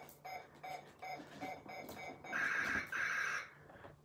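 Buzz Lightyear action figure's laser effect: a rapid run of electronic beeping pulses, then a brighter sustained warbling tone, faint and close.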